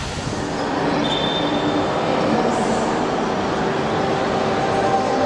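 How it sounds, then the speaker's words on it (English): Interior of a passenger train about to leave the station, a steady loud rumbling hum with a brief high squeal, heard close from inside the carriage. "Ladies and gentlemen, our train is now ready to leave."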